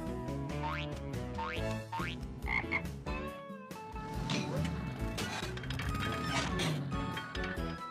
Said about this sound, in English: The frog hops.